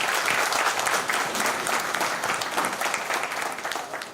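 A room full of people at a radio convention press meet claps steadily for a speaker, a dense, even round of applause that carries on at full strength and eases slightly at the end.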